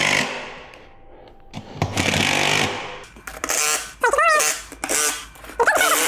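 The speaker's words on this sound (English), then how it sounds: "So we can go through here and we can kind of get these all tightened down." A power tool tightens the bolts on a beadlock wheel in short whirring and buzzing bursts separated by brief pauses, loud and close, with a few clanks between runs.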